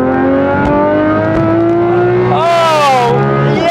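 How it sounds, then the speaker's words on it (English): A Porsche GT3 RS fitted with a full IPE exhaust revs hard, a loud, close, harmonic engine tone that holds steady then swoops up and falls back in a sharp throttle blip near the end. "The sound that comes from the GT3 RS is very soulful."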